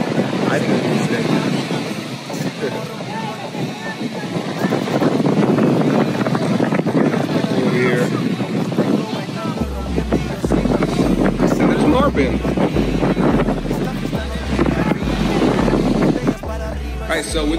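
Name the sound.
strong wind at the beach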